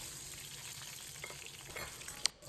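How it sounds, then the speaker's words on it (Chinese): Ginger slices and scallion sections fry in hot oil in a wok while preparing braised lamb spine, giving a steady close sizzle with light stirring clicks and one sharp tap near the end. "油热以后，放入姜片、"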